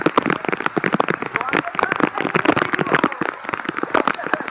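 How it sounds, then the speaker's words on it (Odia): Heavy rain drums steadily on surfaces nearby during a pilgrimage walk to Kapilas, a dense continuous patter under intermittent talk from people walking in it. "ବର୍ଷା ଆମର ଏପଟେ ଜୋର ବର୍ଷା"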